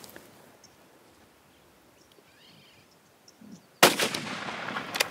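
A single rifle shot rings out during a buffalo hunt in open bush, a sudden loud crack near the end with a rolling echo that fades slowly, after several seconds of quiet outdoor ambience.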